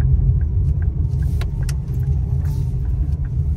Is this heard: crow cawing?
no